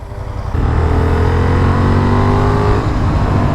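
A Honda Hornet 750 motorcycle engine pulls hard and close, its deep growl jumping in volume and then holding a loud, rising roar with climbing pitch as it accelerates.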